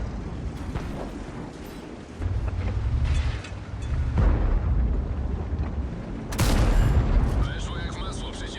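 Repeated heavy tank cannon blasts and rumbling engine noise from a World of Tanks battle, with bursts of gunfire over a constant mechanical drone.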